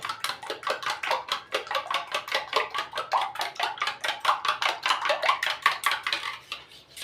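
Small local eggs beaten briskly in a bowl, a fast steady rhythm of whisk or fork clinks against the sides, continuous and close for several seconds with no voices.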